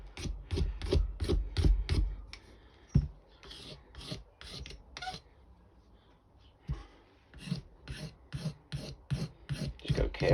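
A sharpened scraper rasps rhythmically over the handle of a Snap-on hack knife around its studs, a fast series of close dry scrapes, pausing briefly midway before resuming, with no talking.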